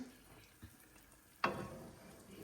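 Gram flour (besan) roasting in ghee in a pan gives a faint, low sizzle with a single louder spatula scrape midway, alone and without voices.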